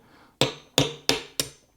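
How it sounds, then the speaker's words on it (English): Four sharp hammer taps knock loose the nut on a Gibson Studio guitar, evenly spaced and close, each a crisp metallic strike with a brief ringing decay and no talking. "So now I'm just gonna hammer this out"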